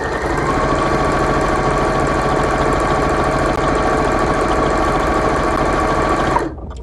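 A sewing machine runs a long unbroken stitching pass corner to corner across fabric for chenille, loud and close with a fast steady mechanical whir and rattle that stops abruptly near the end.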